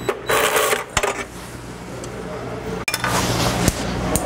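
A hand ratchet loosens a catalytic converter bolt under a 2012 Subaru Forester, giving sharp metallic clicks and rasping bursts, close and fairly loud, with a few distinct knocks between them.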